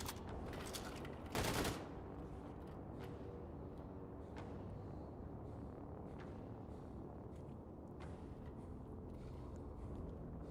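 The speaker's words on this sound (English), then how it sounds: "I don't know what's going on tonight with these grenades, but they can go ahead and calm themselves down" A grenade blast erupts in a video game, one loud burst early on, over a steady wash of constant gunfire and battle noise that carries on throughout.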